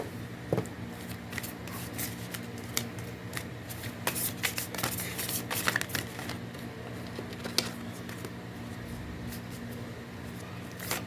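Tarot cards shuffled by hand for a reading, a steady close rustle and riffle with occasional sharper card snaps, continuous over a low background hum.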